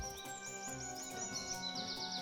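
Yellow-vented bulbuls, two pairs perched in a coconut palm, give a run of bright chirps and whistled calls over a steady outdoor background, fairly faint and continuous.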